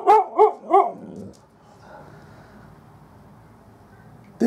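A dog, amid husky and malamute dogs, lets out three quick, loud barks in a row, then falls quiet against faint background noise.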